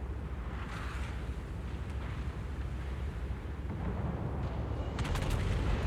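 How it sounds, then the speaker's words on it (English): Naval guns fire in World of Warships with deep, rumbling booms rolling into one another, loud and heavy in the low end, followed by a sharper crackle of hits near the end. "this should be death on these next shots from Disquarius"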